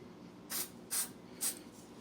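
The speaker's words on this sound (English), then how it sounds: "we're just going to put a little bit more, like a little more activator on the back side of it" Glue activator is sprayed onto a cracked refrigerator shelf in three short, sharp aerosol hisses spaced about half a second apart, close and clear over a quiet background.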